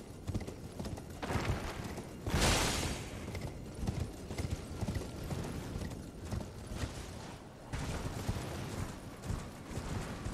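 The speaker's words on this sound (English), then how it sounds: "I forgot we can call our horse in here." Horse hooves clatter in a video game, a busy run of clip-clop beats with a louder burst near the start and a steady rhythm after it.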